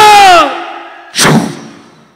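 A voice mimics a Diwali firecracker: a tonal wail sliding down, a brief pause, then a loud burst-like blast that decays away.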